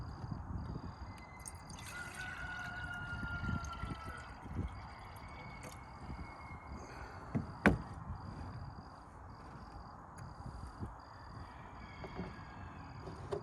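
Water pours into a feed container to thin Mann Lake bee syrup, a close, uneven splashing and trickling with a few sharp knocks and clinks.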